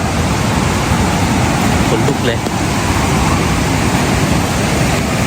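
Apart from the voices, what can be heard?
Kong Kaew waterfall at Khao Yai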